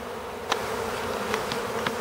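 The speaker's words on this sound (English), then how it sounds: "all the rest of these bees that are flying in the air will smell that and they'll start landing there" A honeybee swarm buzzing in the air around a house, a steady dense hum of many wings with a few individual bees zipping close past, no voices.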